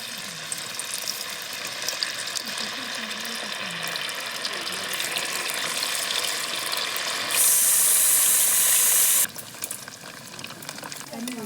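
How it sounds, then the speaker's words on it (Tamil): Fish frying in oil in an iron pan, a steady close sizzle with light crackles and occasional clinks, briefly swelling into a louder harsh hiss near the end. "எண்ணெய் நல்லா காஞ்சிருச்சு இப்போ நம்ம மீனை போட்டு வறுத்து எடுத்துக்கலாம்"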